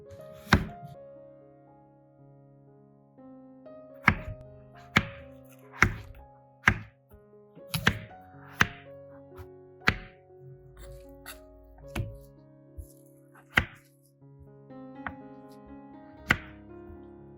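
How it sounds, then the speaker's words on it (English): Potatoes being cut into pieces with a knife on a cutting board, sharp chopping thunks arriving one by one at an irregular pace, close and clear over soft background music. "Then cut them into pieces to boil quickly."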